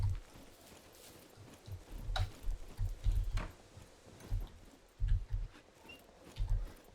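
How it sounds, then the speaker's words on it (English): Hoofsteps of a pig running around in SCUM, near a sanatorium, heard as soft, irregular clip-clop thuds over a quiet ambient background. "There's a pig running around over there."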